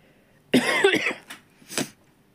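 A woman coughs loudly up close, a harsh opening burst followed by two smaller trailing coughs, alone in a quiet room.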